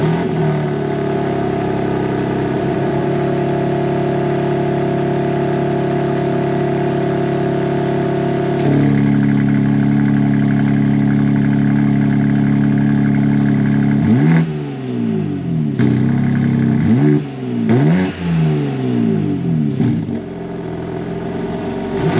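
A new BMW M4 with a manual transmission idles with a steady low engine hum, then the engine is blipped through several sharp, loud revs that rise and fall in quick succession, close by with no talk.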